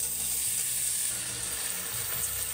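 Onion and garlic sautéing in a pan for pork chicken porridge, a steady close sizzle and crackle of frying running evenly throughout without talk.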